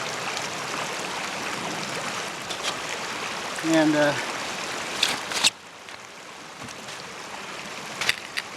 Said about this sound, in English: I've come across the stream here, wading in the icy water in these mucklucks